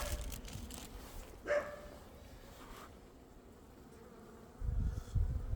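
Honeybees buzzing at the last surviving beehive in an apiary in early spring, a low steady hum close by, with a short louder buzz near the start and a stronger burst toward the end.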